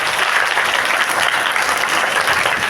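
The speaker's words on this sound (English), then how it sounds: "Clap loudly for this girl." An audience at an English declamation competition claps loudly for a girl, a thick, even burst of many hands that stays strong from start to finish.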